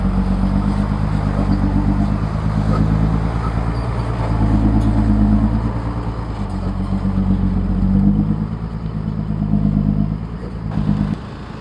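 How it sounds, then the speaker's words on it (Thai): An old-model Hino Mega Dominator truck with a 175 engine drives along, its diesel engine giving a loud, continuous low rumble with clattering texture and gentle swells in level. "ขับมาชมกันครับ ฮีโน่เมกานะครับ โดมิเนเตอร์โฉมเก่านะครับตัวนี้"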